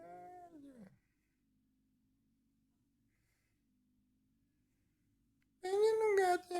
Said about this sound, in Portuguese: Esse gato aqui, ele gosta de carinho.